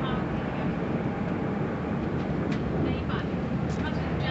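Steady low rumble and rushing noise heard from onboard a GWR 802106 train running fast from Paddington toward Slough through stations, continuous and loud with brief higher whooshes as it passes platforms.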